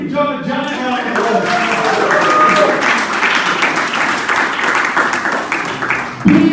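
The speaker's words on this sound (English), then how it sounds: "Everyone give John a giant round of" An audience at a public speaking session bursts into loud, sustained applause that fills the room, with a voice speaking briefly as the clapping begins.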